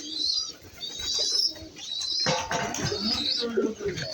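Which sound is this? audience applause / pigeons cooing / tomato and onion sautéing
pigeons cooing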